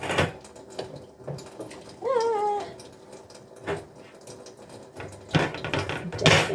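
Dishes are washed one-handed at a sink: scattered clinks and clatters of plates and cutlery with bursts of water, and a cat meows once midway.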